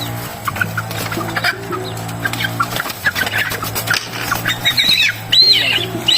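Chickens cluck close by in repeated short bursts with a few higher squawks, over a steady low hum and some distant background voices.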